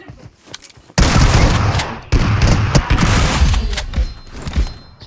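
Loud, dense gunfire from a 2v1 mobile shooter match bursts in after about a second of quiet, breaks off briefly, then rolls on as near, continuous volleys of shots and thuds.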